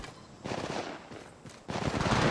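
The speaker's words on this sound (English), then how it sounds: "Shots fired at me." Bursts of automatic gunfire in the mobile game Apex Legends Mobile crackle in two long stretches, moderately loud and fairly close, with a short lull between them.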